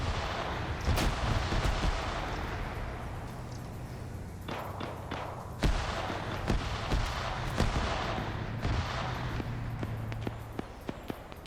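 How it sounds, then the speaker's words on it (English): Mark 19 grenade launcher fire in the Arma video game, heard as a string of heavy booming impacts and sharp reports over a constant rumbling battlefield din, some hits close and loud, others more distant. "So we got some Mark 19 fire coming in from Blue 4 here"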